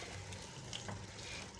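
Beef pieces sizzling in oil in a karahi for Lahori beef karahi, a continuous soft frying crackle with faint stirring scrapes, steady and moderately quiet.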